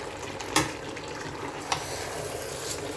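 Plantains are turned in a cooking pot for a Cameroonian-style poulet DG, giving a steady sizzle of frying with two sharp utensil scrapes against the pot and soft stirring in between.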